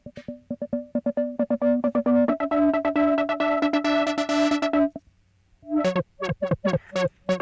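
A synthesizer tone, a Novation Peak, chopped into rapid, stuttering pulses by a fast-wobbling filter, buzzy and loud, briefly cutting out before the pulsing resumes at a lower pitch.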